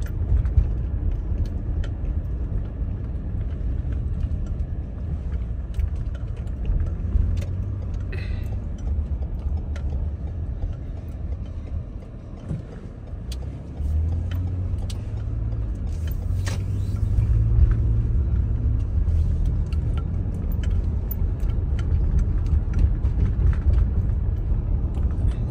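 A car rolls slowly through a residential neighborhood of nice houses with a steady low engine and road rumble, and faint ticking and small clicks inside the cabin.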